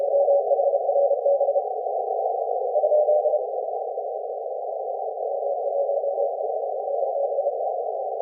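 Morse code CW signal received on an HF amateur radio band, a steady pure tone keying in rapid dots and dashes, continuous and fairly loud over a quiet background.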